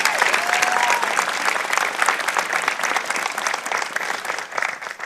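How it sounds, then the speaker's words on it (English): A crowd at a graduation applauds warmly, dense clapping that stays strong throughout and tapers only slightly toward the end. "a round of applause, please, for David Newhouse and Unity"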